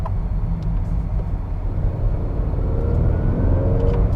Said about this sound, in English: the turbo just builds up so quick, and I like the way that you hear that little whistling sound